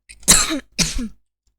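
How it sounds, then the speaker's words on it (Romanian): Two close, loud coughs in quick succession, harsh and throaty, then silence. "Scuzați că am tușit."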